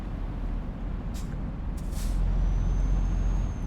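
Big rig in Euro Truck Simulator 2 idling steadily with a low diesel rumble after starting up, with two short hissing air-brake bursts and a faint high whine in the background.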